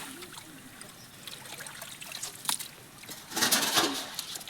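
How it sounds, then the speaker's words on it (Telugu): Water is poured and splashed into a sluice outdoors while fishing, trickling nearby in short uneven bursts, growing louder toward the end, with a bird calling faintly once or twice. "ఆ పక్క వచ్చి ఇంకో మనుషులు పోస్తా ఉన్నారు నీళ్ళు."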